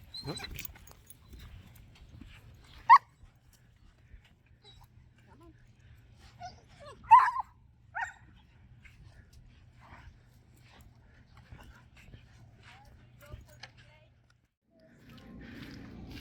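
A panicked rescue dog in Puerto Escondido gives faint, scattered whimpers and yelps while a leash is put on, with people talking quietly, some shuffling movement and a low hum underneath.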